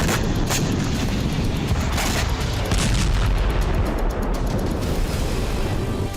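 Missile and drone strikes on the Rostov nuclear power plant produce a dense, continuous roar of blasts and rumbling, loud and unbroken throughout, with no voices.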